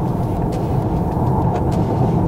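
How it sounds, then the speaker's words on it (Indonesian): A Honda Civic RS sedan drives steadily with its turbo engine under boost at around 3000–3500 rpm, giving a continuous, even engine and road drone heard from inside the car. "Ini turbo ngisi terus ya dari tadi ya"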